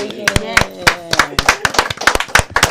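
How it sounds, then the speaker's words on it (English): An audience claps for a guest returning to a talk show, sharp separate hand claps at an irregular pace, close and fairly loud, with voices speaking between them. "Clap it up for her."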